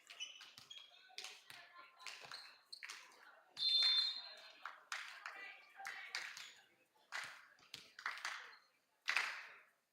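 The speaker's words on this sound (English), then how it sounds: "Bit of a clapping anticipation from the bench." Volleyball team bench clapping during a national women's match, sharp rhythmic claps in rapid bursts, close and fairly quiet, with a commentator talking over them and a high beep near the middle.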